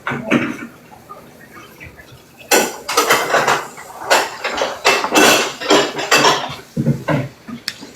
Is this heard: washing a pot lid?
yes